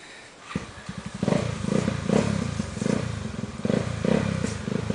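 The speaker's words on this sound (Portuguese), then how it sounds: "Essa moto vem em cima de nós, né?" A motorcycle on a dirt trail labors uphill nearby, its engine chugging in uneven pulsing bursts that grow louder after a quiet start.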